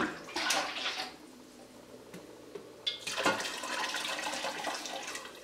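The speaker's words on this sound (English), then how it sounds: "And I'm going to pour up enough broth that I think I will have 7 quarts." Turkey broth pours from a stainless pot into canning jars, with a splashing, gurgling stream that rises, eases off briefly, then returns strongly for a longer run.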